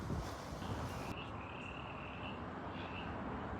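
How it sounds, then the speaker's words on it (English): Frogs croak outdoors at night, a faint, distant chorus of short repeated calls over a steady hiss of ambient noise and wind. "The frogs are out."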